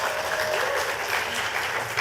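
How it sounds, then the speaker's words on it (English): Conference audience applauding on the morning of day two of a Grenada cultural and creative industries event, steady dense clapping that holds at an even level for the whole two seconds with no voices over it. "Give yourselves a round of applause."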